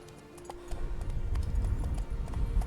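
Horse hooves clip-clop steadily in The Witcher 3: Wild Hunt, a close, even rhythm of hoof strikes over low rumbling ambience, with no talking.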